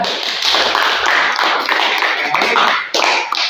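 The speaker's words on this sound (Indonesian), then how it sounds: "kasih tepuk tangan dulu semuanya ya" A classroom of students applauds together, a steady burst of hand clapping that fills the room for several seconds and eases slightly near the end.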